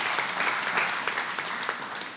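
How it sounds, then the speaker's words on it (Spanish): A church congregation applauds during a Sunday service, a full, steady burst of many hands clapping that lasts a couple of seconds and sits close and clear without any speech over it. "¿Le podemos dar un aplauso de nuevo?"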